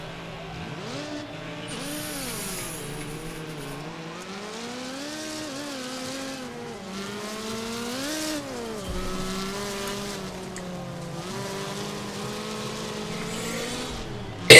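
A rally car races in the video game Wreckfest, its engine revving up and down continuously as it shifts gears, with tire squeal and skidding throughout. The sound is steady and loud, with no talk over it.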